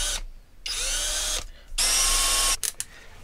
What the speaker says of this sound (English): drill a very small hole.